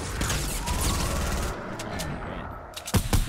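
Fortnite gunfire rattles in rapid bursts through the first half, then drops to a few sharp, separate shots near the end.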